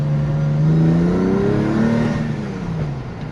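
A Porsche 996 911 engine is revved while still cold, the note rising and falling smoothly over a few seconds, close and loud, with no voices.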